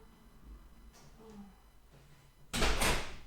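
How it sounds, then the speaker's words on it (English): A door in a room used for a hatha yoga class opens to let a cat out: a sudden loud, rough burst near the end after a stretch of quiet room tone. "just don't like that door being shut."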